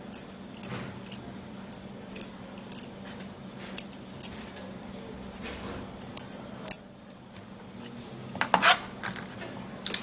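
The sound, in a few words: peeling garlic cloves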